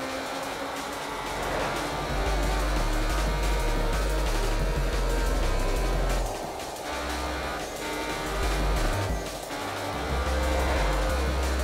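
A racing car's engine in the Need for Speed video game drones loudly and steadily throughout, with the low rumble rising and falling as the car accelerates and shifts.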